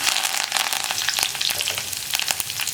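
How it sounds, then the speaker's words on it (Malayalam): Dense crackling and popping of mustard seeds spluttering in hot oil with dried red chillies and curry leaves, steady and close, with sharp bursts throughout and no voices. "കടുക് ഒന്ന് പൊട്ടി തുടങ്ങട്ടെ."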